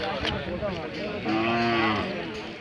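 Hallikar cattle at a busy village cattle fair, with a drawn-out, tonal moo rising in the middle of steady crowd bustle and distant voices.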